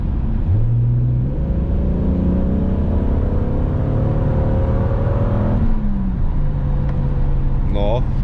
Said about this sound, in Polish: Idzie i wtedy turbo wstaje i idzie jeszcze bardziej.